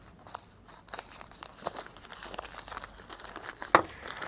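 Oil wrapping paper crinkles and rustles as an injector valve assembly is unpacked, with irregular crackling bursts and one sharp crunch near the end, close up and fairly quiet, with no talking.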